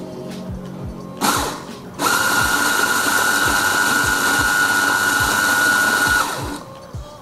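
Eureka Firenze 75mm coffee grinder running in two bursts, a short whir and then a long steady high-pitched grind of about four seconds, loud and close, with regular ticking clicks throughout.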